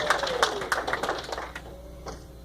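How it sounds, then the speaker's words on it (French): A church wedding congregation claps for the newly married couple, a short burst of scattered, moderately close applause that thins out and fades within about two seconds. "On peut les applaudir."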